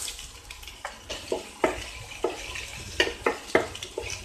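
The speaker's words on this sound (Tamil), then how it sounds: "வெங்காயம் ஓரளவுக்கு வதங்கிச்சு" Onions sizzling and crackling in hot oil, with irregular stirring scrapes and soft pops, close by and fairly quiet.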